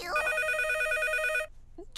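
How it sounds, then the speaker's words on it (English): A cartoon telephone rings with a bright electronic trill, one sustained burst lasting over a second before cutting off, followed by a short faint sound. "June, a phone call"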